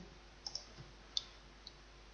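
Computer mouse clicks while confirming settings in software, a few faint, sharp isolated clicks, two in quick succession, then single ones spaced apart over a quiet background.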